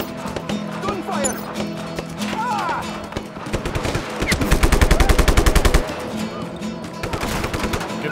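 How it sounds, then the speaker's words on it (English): Rapid automatic gunfire from the Just Cause 3 video game, a loud sustained burst in the middle of the clip with scattered single shots before it, layered over music and action noise. "Gunfire!"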